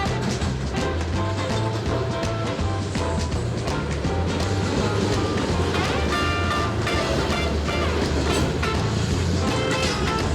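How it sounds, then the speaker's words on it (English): Very long freight train passing near Commissary BBQ restaurant in Memphis, a loud continuous rumble with rhythmic clickety-clack of wheels and metallic rattling throughout. "so that's a really long train"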